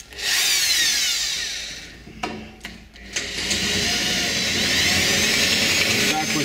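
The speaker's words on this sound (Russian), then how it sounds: "Так вот тяжело и кропотливо под каждую клепочку сверлится." A power drill with a cobalt bit grinds into steel channel with a high, strained whine, pausing briefly for a few knocks and scrapes before boring in again.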